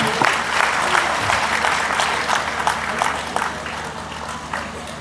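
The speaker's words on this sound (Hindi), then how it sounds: "करतल ध्वनि के द्वारा हम आपका अभिनंदन और स्वागत करते हैं।" Steady applause from a crowd, dense clapping that holds at an even level throughout with no break.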